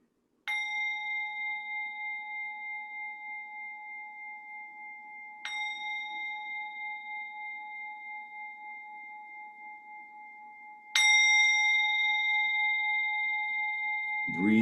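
A resonant meditation bell is struck three times about five seconds apart, each long ringing tone slowly fading in near silence during a guided breathing practice.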